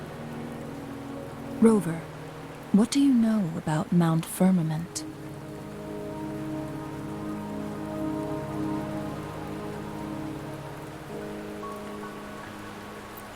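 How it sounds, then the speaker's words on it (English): Rain in the video game Wuthering Waves, a steady soft patter on surfaces running throughout, with a voice speaking over it near the start before the rain continues alone. "Don't worry, the rain won't last much longer."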